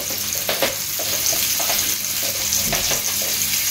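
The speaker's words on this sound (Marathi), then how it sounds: "बरो मिक्स दिता तेका" Fish curry being stirred and mixed in a pan: continuous sizzling with repeated scraping strokes of a spoon against the pan, close and fairly loud, with no voices.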